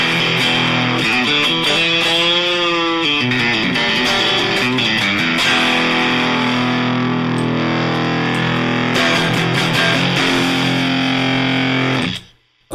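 An electric guitar played through a Rank distortion pedal, loud and saturated, with a strummed chord ringing out and then a long sustained note before it cuts off abruptly.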